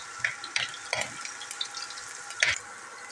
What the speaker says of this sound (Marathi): आता तेल झाले गरम. आता ह्याच्यामध्ये आपण जिरं टाकूया अर्धा चमचा आणि लगेच आपण मिरच्या टाकून घेऊया.